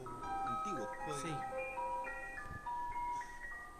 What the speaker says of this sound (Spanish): Esa es como una música de carrito de helado